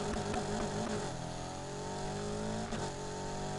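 A loud car engine revving in the racing game Need for Speed Heat, a steady sustained roar with rising pitch sweeps and a brief dip near the end, heard alone without talk.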